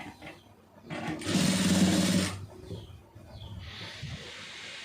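A sewing machine runs in a short burst of about a second of rapid stitching on a blouse's round neck, with fainter hiss and rustle around it.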